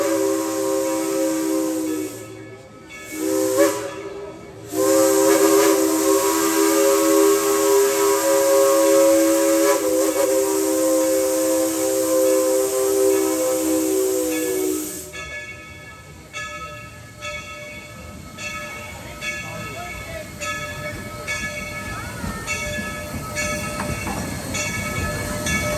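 A Dollywood steam train engine sounds two short sharp whistle blasts over a long steady loud hiss of escaping steam, then the hiss cuts off, leaving quieter rumbling and clanking rail noise.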